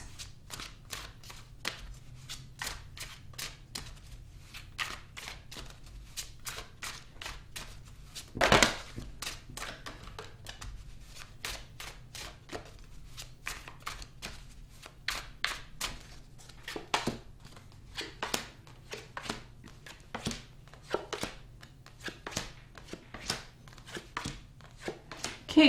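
Tarot cards shuffled and drawn from a deck, a steady run of crisp close riffles and flicks, with sharp snaps as individual cards are pulled in a quiet room.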